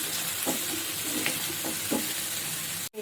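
A spice paste for an onion- and garlic-free katla fish curry fries in a pan, a steady sizzle broken by several scraping stirs, ending in a brief cut to silence.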